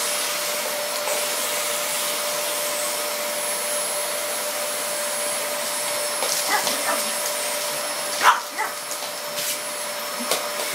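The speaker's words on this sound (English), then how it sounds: "You get that bloody Hoover." A Hoover vacuum cleaner runs with a steady, continuous whine while a pug barks and whimpers a few times nearby, the sharp yaps cutting in over the motor toward the end.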